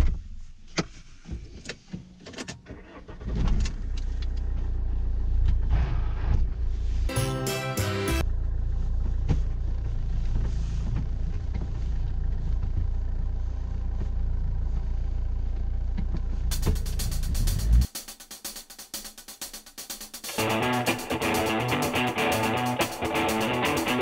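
A Fiat Multipla 1.9 JTD diesel runs on a dyno, starting with a few clatters, then a loud, sustained engine roar that builds and holds before cutting off, followed by different, lighter mechanical noise.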